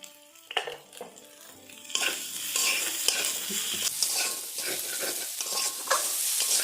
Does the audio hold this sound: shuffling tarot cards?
no